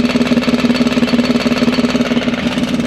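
A 2022 BMW X3 M engine fitted with VRSF downpipes runs steadily, with a loud, rapid rhythmic ticking pulsing over the engine drone, close and continuous with no talking.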